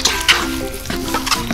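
Ingredients for a polymer science experiment being stirred and mixed together, a steady wet scraping and swishing close by with a few sharper bursts, no voices.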